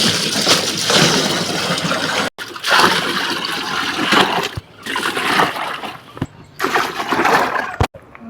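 Water from a bucket pours and splashes into a guppy tank during a water change, a loud close gush in several bursts broken by short pauses.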